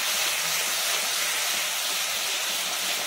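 Garlic, ginger and green chilli paste cooking in a hot pan for Rajasthani moong dal kachori filling, a loud continuous sizzling hiss, close and even throughout with no voices.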